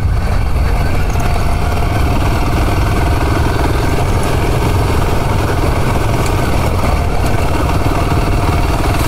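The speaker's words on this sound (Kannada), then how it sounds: "ಬ್ರೇಕಲ್ಲಿ ಹಾಕುದು ಅಂತ ಇಲ್ಲ, ಸೀದಾ ಹಾಕುದೆ ಇಂಜಿನ್ ಬ್ರೇಕಲ್ಲಿ" A Royal Enfield Himalayan 450 motorcycle engine runs loud and steady up close while engine braking off-road, a continuous low rumble with no change in pace and no voices.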